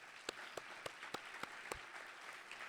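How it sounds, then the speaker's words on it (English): At a presidential address for a professional association, a distant, faint audience applause forms a soft background patter, while a few louder, evenly spaced single claps ring out nearby. "and I think that deserves a round of applause."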